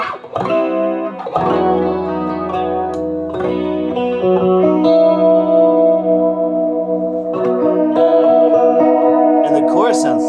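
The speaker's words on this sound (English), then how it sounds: "And the chorus sounds fucking tight." Electric guitar through an Ampeg VH-140C amp with a shimmering stereo chorus effect, sustained chords ringing with a lush, wavering wash, played loud and up close.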